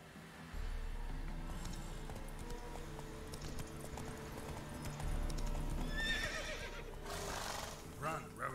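Roach the horse gallops in The Witcher 3, rapid hoofbeats rolling under music, with a rising whinny-like flurry near the end and speech faintly mixed in.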